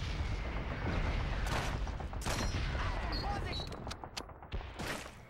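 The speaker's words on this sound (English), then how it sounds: "Let's see if I can avoid this grenade." In the Call of Duty 2 World War II shooter, dense gunfire and a grenade blast fill the battlefield, a loud continuous barrage of shots and booms that thins out toward the end.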